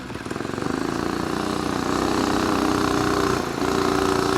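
A Stage 2 Predator 212 engine minibike revs up hard as it accelerates, a steady loud buzzing engine note that climbs in intensity, dips briefly near the end, then pulls again, with no talking.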